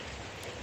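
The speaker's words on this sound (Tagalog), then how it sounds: "Hindi to titigil tong ulan." Heavy rain pours steadily during a typhoon, a dense, even broadband wash with no distinct drops standing out, close and continuous for the whole moment.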